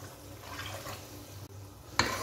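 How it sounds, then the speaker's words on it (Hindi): Water is poured into a pot of beef kofta curry, a soft steady splashing that ends in a sharper splash near the close. "अब मैं इसमें पानी शामिल कर रही हूँ। मैं इसमें तकरीबन 2 ग्लास पानी डालूँगी।"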